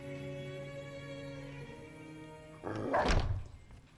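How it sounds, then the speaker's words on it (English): A dog barks once in the video game Fallout New Vegas, a short, fairly faint bark rising over steady game music and ambient tones. "You named your dog Cheyenne"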